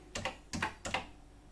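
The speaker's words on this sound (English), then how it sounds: "If I type in, the keyboard on this is a bit sticky." Typing on the sticky keyboard of a Commodore PET computer: three close clusters of quiet key clacks in steady rhythm, with no voice.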